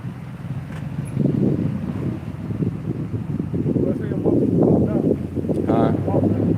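Gusty outdoor wind buffets the phone microphone in a steady low rumble, with a voice talking over it throughout.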